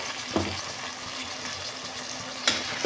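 Cut vegetables frying in a pan for palak rice, a low, even sizzle with a couple of brief stirring knocks.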